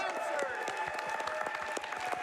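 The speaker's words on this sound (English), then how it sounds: "I just want to give a huge round of applause for everybody in production and over in tech for giving this a chance." An audience at a gaming charity marathon event applauds in a quick, dense patter of claps, moderately distant and steady for a couple of seconds.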